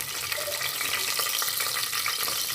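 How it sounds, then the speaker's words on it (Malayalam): Green chillies being stirred in a pan for Hyderabadi vegetable khichdi, giving a dense, even sizzling hiss with faint stirring scrapes, close and steady and without speech. "ഒന്ന് ഇളക്കി കൊടുക്കാം"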